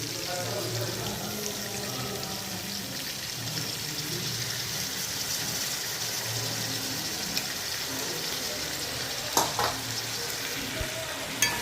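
Ginger-garlic paste frying in a pan for vegetable biryani: a steady, close sizzle, with a few sharp clicks from the pan near the end.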